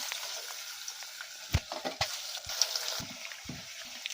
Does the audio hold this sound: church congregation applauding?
no